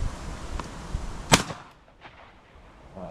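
A 100-year-old side-by-side shotgun fired while crow shooting: one sharp, loud close blast that echoes away, with faint knocks before and after.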